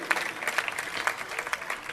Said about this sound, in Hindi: एक बार जोरदार तालियां बजा दें आप सभी लोग